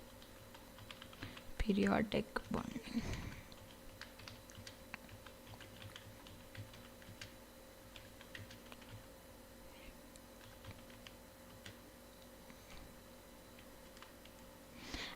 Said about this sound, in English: that is the reason I'm typing it.